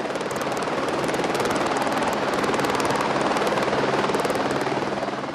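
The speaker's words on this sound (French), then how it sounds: "l'hélicoptère se pose au milieu du champ" A helicopter lands in the middle of a field, its rotor chop and engine roar loud, close and steady throughout.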